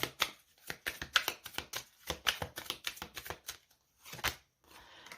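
Tarot cards are handled and laid out on a table in a quick series of soft slaps and flicks. The sounds are close and quiet, with short pauses between bursts and no voices.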